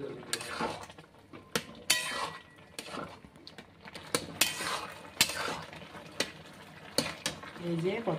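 Egg halwa stirred in a pan, a utensil scraping and clinking against the metal in repeated strokes with brief sharp clicks, close and moderately loud, with a voice speaking now and then over it.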